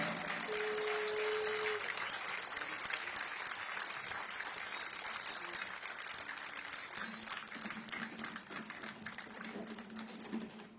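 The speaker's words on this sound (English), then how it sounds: "Give a round of applause to all our distinguished guests." A crowd applauds distinguished guests at a formal ceremony, sustained clapping filling the room steadily and thinning slightly toward the end.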